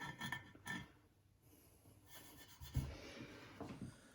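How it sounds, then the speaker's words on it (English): Quiet rubbing and scraping against a Pyrex lobster casserole dish while it is scrubbed clean, irregular strokes coming in short close bursts with a soft thump partway through. "after several grueling hours of scraping and scrubbing on my lobster casserole here"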